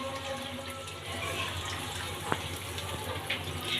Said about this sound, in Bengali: এই মশলাটা ধুয়ে সামান্য পরিমাণ জল দিয়ে দিলাম মাছটাতে